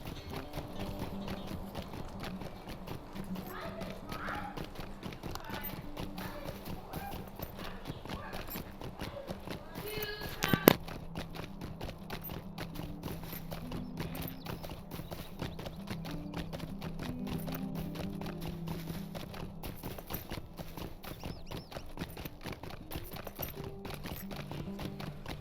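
Horse hooves clip-clop in a steady rhythm during riding in Lord of the Rings Online, faint and continuous beneath game music and ambience, with one sharp louder hit partway through.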